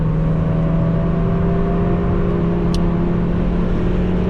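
Mazda MX-5 engine on a race track: a loud, close, steady drone with a sustained tonal hum throughout, as heard from inside the car.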